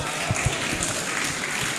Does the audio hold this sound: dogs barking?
no